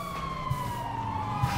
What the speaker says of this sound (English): And of course, police car right around the corner, because why not?